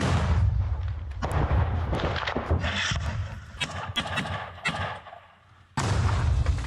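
Combat gunfire and artillery in the Russia-Ukraine war near Zaporizhzhia, loud bursts of rifle shots and heavy booming impacts in rapid irregular succession, with a brief lull before another loud blast.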